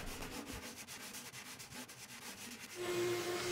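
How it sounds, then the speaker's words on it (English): Steady back-and-forth rubbing of a sanding block with sandpaper on wood, sanding off excess wood filler, a soft rhythmic scratching up close, followed by a low motor hum starting near the end. "I'll take a sanding block and sandpaper and sand off the excess wood filler"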